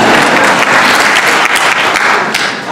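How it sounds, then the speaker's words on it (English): A crowd bursts into loud, dense applause, many hands clapping in a continuous roar that holds steady for a few seconds, close and full, with no voices on top. "I'd take some applause for that."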